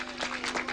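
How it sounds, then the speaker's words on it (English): A brief burst of applause for a contestant on a radio quiz show: dense, even clapping heard close, with a steady low hum underneath and no voices. "Give him a round of applause."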